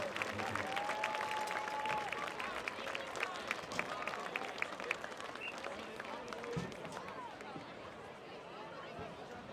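A stadium crowd at a high school football game between Romeo and Grand Blanc applauds the marching band seniors, a distant, steady wash of clapping and cheering mixed with crowd murmur and a faint whistle.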